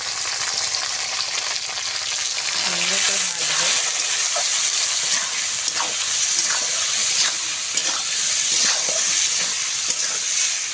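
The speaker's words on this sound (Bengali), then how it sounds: "সমস্ত কেটে রাখা সবজিগুলো আমি একসঙ্গে সুন্দর করে ভেজে নেব" Chopped vegetables fry with salt and turmeric for a village-style vegetarian pumpkin-greens dish, a loud, continuous hiss of oil with occasional stirring and a brief voice underneath.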